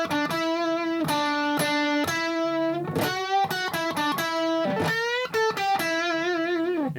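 Distorted electric guitar riff, played high on the neck with string bends, loud and continuous with sustained notes broken by quick repeated phrases, no talking.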